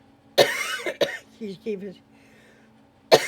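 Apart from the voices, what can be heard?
coughing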